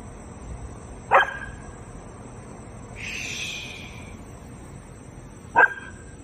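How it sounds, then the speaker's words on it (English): Two sharp, single dog barks ring out outdoors at night, spaced several seconds apart, with a faint high call drifting in between them over a steady insect hum. "Stop barking, bud. What's wrong?"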